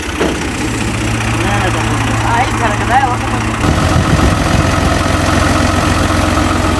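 A heavy tractor engine idles steadily with a low, continuous rumble while a wheat thresher is set up, growing slightly louder partway through, while faint voices come and go in the background.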